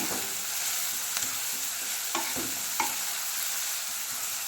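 Onions frying in a pan for a Madurai-style egg dish, a steady crackling sizzle throughout with a few sharp clicks of a spoon stirring against the pan.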